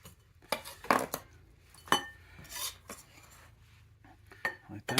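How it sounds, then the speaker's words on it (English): Diced fire-roasted vegetables for salsa tipped into a bowl, with a series of close, sharp clatters and knocks against the dish spread over several seconds, separated by quieter gaps. "So now we're just going to stick them in the bowl."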